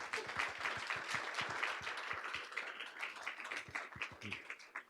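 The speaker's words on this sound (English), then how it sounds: "Another round of applause" An audience at a school board of education meeting gives sustained applause, a dense steady roar of many hands with a few sharper nearby claps, moderately quiet overall.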